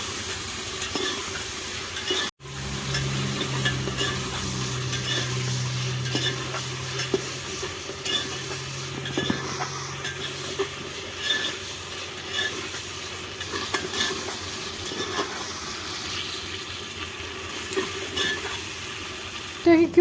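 Meat lightly frying and being stirred in a pot on a mud stove, a continuous close sizzle with scraping stirs, a brief drop near the start, and a low hum running through part of it.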